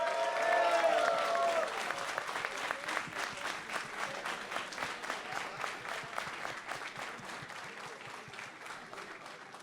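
Audience at a grand finals event applauding, loud sustained clapping that swells at the start and then settles into a steady, slightly fading roar of many hands.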